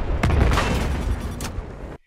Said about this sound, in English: Do you hear that incoming missile beeping that happens after the explosion?